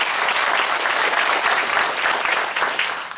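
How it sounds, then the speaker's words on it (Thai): Dense, loud audience applause for a company at a Thai-language business presentation, a continuous wash of clapping hands that tapers slightly at the end. "ปรบมือให้บริษัทสักครั้งหนึ่งนะครับ"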